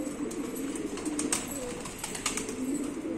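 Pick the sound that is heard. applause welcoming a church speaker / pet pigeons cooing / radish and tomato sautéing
pet pigeons cooing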